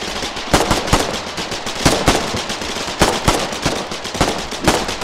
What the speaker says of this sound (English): I'm shooting the foxhole.